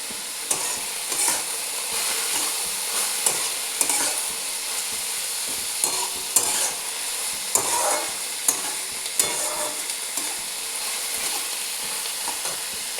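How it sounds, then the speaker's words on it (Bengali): Onion frying in oil with a little sugar for a goat meat and papaya curry, a steady close sizzle broken by regular scraping stirs of a spatula against the pan, no voices. "পেঁয়াজটা একটু লালচে করে ভাজবো"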